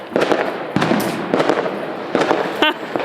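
Bonfire Night fireworks at a backyard gathering, loud bursts popping and crackling in quick clusters, with a whistling shot near the end, close by and unaccompanied by speech.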